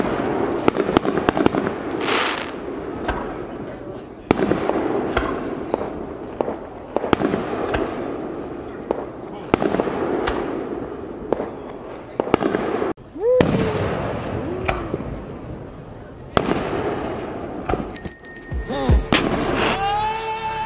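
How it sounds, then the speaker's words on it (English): Canada Day fireworks burst repeatedly over about twenty seconds, with sharp bangs and crackles at irregular intervals, some whistling rising tones, and distant voices reacting between explosions. "It's just a bit of fireworks, but I thought you guys might like it."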